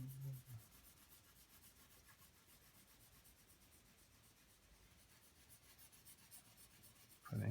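Soft, steady rubbing of the side of a pencil laying flat tone on paper while drawing a cat, a faint continuous scratchy hiss with no voices.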